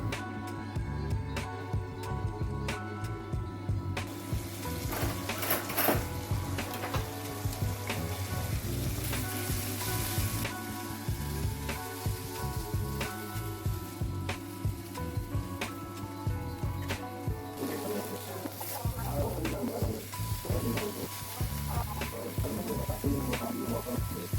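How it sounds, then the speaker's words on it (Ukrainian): Gobies frying in a pan, spaced apart, giving a continuous gentle sizzle and patter that runs steadily throughout at moderate-low volume with no voices. "Треба буде їх обсмажувати з усіх трьох сторін."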